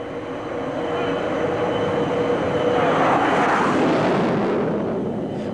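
Steady roaring jet noise from an A-7 Corsair attack plane aboard the aircraft carier USS Carl Vinson, a broad loud rumble that swells slightly mid-clip and holds continuously, with no talking.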